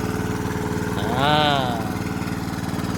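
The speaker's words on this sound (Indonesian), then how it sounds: "terus disedot dengan mesin diesel gini kan" A diesel engine pumps water from a bored well to irrigate alfalfa, chugging in a fast steady rhythm close by, with someone talking over it.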